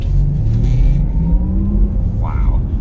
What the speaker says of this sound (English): we'll do another acceleration in the demo Porsche Taycan